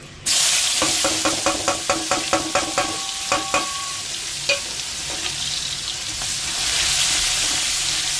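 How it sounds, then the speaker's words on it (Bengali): Onion dropped into hot oil in a wok left from frying fish, a loud burst of sizzling followed by a quick run of spatula clinks against the pan, then continuous frying hiss that swells toward the end. "এবার ওই তেলের মধ্যে আমি পেঁয়াজটা দিয়ে দিলাম।"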